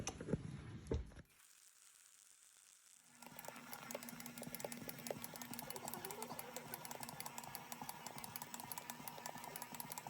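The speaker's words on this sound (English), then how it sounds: "I'm gonna put my mixer on and leave it for 5 more minutes" After a brief clatter and a pause, a stand mixer kicks on and runs steadily, kneading donut dough with a continuous faint motor whir and rapid rhythmic ticking that persists to the end.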